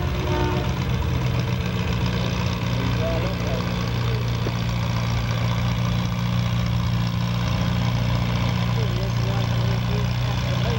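Antique tractor at a county fair tractor pull idles with a steady, throbbing low rumble, constant and loud throughout, while a voice talks faintly over it.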